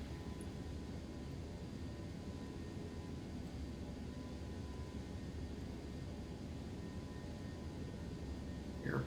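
A ToLiss A319 airliner climbing in X-Plane 11 gives off a steady, dense engine roar and airflow hiss that stays even throughout, with nothing else over it.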